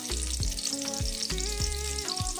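Onions frying in oil in a small cooking pot, a steady close sizzle with bubbling crackle throughout and a few soft periodic thumps, no talking.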